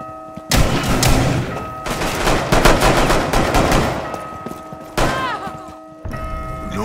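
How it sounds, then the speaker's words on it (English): Rapid bursts of gunfire crackle loudly in quick succession, with a few heavier thuds, in the video game Rainbow Six Siege. The shots stop briefly, then a final shorter volley follows. "Gunshots rang out."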